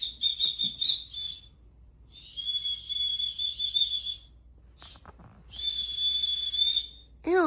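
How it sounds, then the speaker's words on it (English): A small plastic multi-tool whistle with a built-in compass and temperature gauge is blown in three sustained shrill blasts, close and fairly loud, with short gaps between them. "It's a whistle, compass, temperature gauge."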